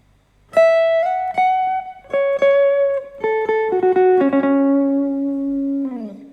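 An acoustic guitar plays a solo passage from a song: a clear run of plucked single notes with slides, stepping downward and settling on a long sustained low note, close and alone.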